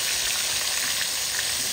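A fish head fries in plenty of hot oil with a continuous, dense sizzle and crackle, close up and steady, with no voices.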